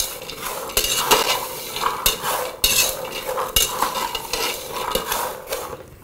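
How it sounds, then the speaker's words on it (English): Groundnuts fried with gari in a pan over low heat, stirred constantly so the dry mixture rasps and rattles against the metal in repeated scraping strokes, close and fairly loud. "So yeah, you just keep frying."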